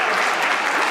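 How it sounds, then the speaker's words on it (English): Audience applause at a community breakfast, steady dense clapping filling the whole short moment with no pause. "please applaud right now"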